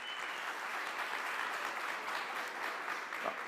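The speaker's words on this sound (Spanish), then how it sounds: "vamos a darle otra vez un fuerte aplauso a nuestros panelistas" Applause for panelists at a Spanish-language journalism panel, a steady even wash of many hands clapping, heard at a distance and fairly faint.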